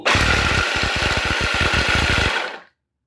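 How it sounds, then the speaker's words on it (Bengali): An electric chopper coarsely grinds dry-roasted walnuts, almonds and pistachios: a loud, close whirring grind with rapid rattling pulses runs for about two and a half seconds, then cuts off sharply. "এবার একটা চপারের মধ্যে ড্রাই ফ্রুটসগুলো নিয়ে নেব, নিয়ে এবার এটাকে দরদরা পিষে নেব।"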